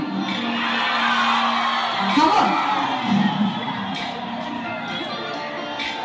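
A crowd at a Rongali Bihu concert in Garmur, Majuli, whoops and shouts in a continuous roar of cheering, fairly loud and steady, with a voice calling out over it.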